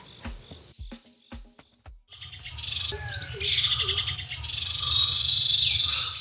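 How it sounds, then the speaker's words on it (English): A dense outdoor chorus of croaking frogs and chirping birds, with a steady insect-like cricket trill underneath, close and lively throughout, in a Sri Lankan jungle campsite. "You can hear all the animals, birds, crickets, frogs, you name it"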